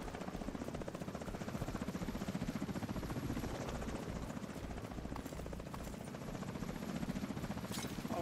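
Helicopter rotor throbbing steadily in Destiny 2, a continuous rhythmic chop filling the whole stretch at moderate volume with no talk over it.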